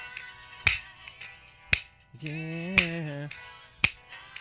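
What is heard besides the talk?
finger snaps on the Rock With You multitrack stem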